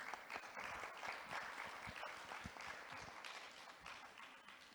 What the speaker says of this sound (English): Can we have applause for Sabine, please?